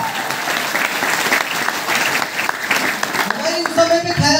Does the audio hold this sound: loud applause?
yes